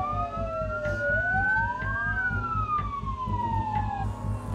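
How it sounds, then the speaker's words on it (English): A warning siren sounds before an explosive demolition at the Sellafield nuclear site, its wailing tones sliding up and down and overlapping in the distance over a low rumbling background. "This is the 15-second siren."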